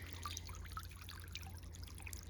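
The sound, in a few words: garden fountain water trickling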